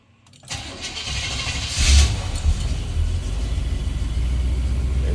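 A Ford Powerstroke diesel, just refitted with a new alternator, cranks and fires up close by, then settles into a loud, steady rumbling idle.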